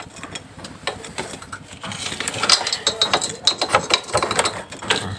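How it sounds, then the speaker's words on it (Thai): Front sprocket of a Honda Wave 110i being turned by hand to seat the chain, a run of close ratcheting clicks and metallic chain rattles that grow denser and louder, with no speech. "เอาโซ่ใส่มาตรงนี้แล้วก็หมุนสเตอร์หน้านะครับ หมุนให้มันเข้าร่องนะครับ"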